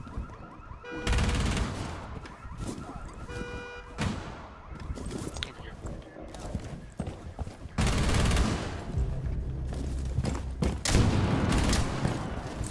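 Repeated loud shotgun blasts and chaotic combat noise in a first-person shooter video game, heavy bursts rising and falling over roughly a dozen seconds with little talk heard.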